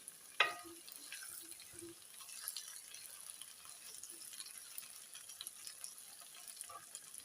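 Guar bean pods stir-frying in a pan, a faint, quiet sizzle with a sharper clack near the start and scattered small scrapes and ticks from stirring.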